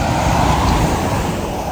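A truck passes on a road in Quebec near a factory, heard from a bicycle as a loud, broad roadway roar with steady traffic noise throughout the short moment.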